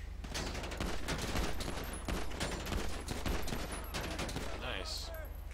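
Gunfire rattles through a GTA 5 Fleeca Job heist: rapid, repeated shots and bursts in a busy, continuous volley with no clear pauses.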